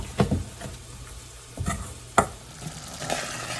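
Thick Mysore Pak mixture of gram flour, ghee and sugar syrup bubbling and frothing in a pan over low heat, with a few scraping stir strokes and soft sizzling throughout, close and moderately quiet.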